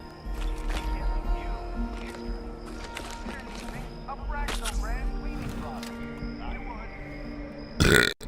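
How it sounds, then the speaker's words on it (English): Repeated loud burps over several seconds, close and uneven, with scattered clicks and knocks during gameplay and a sharp burst near the end. "Stop burping."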